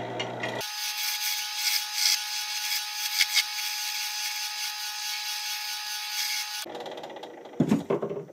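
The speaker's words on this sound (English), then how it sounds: "go back to your roughing gouge to take out more bulk material" Roughing gouge cutting an olive wood pen blank spinning on a lathe, a steady hissing, rasping shave lasting several seconds, then the cut stops and a few knocks and handling noises follow.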